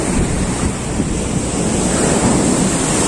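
Sea waves wash continuously on the shore at Digha beach, a loud, even roar of surf mixed with steady wind buffeting the microphone.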